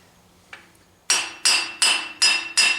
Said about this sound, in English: I just dropped that hammer. Guess where it landed? Right in the middle of the tractor.